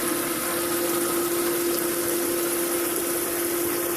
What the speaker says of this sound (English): the only thing that is of a complaint is the noise of the pump